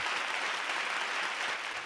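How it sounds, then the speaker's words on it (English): Soft, continuous clapping from a virtual audience during a Zoom musical, an even hiss of many hands that stays low in level and steady throughout. "Please hold the applause."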